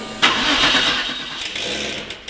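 Air-cooled Porsche 911 964 Turbo flat-six fires up with no exhaust fitted, a sudden loud start settling into a raw, rough, continuous idle roar close by.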